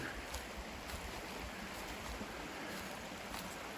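Steady broadband rush of flowing water, like a creek running close by, continuous and even with no voices.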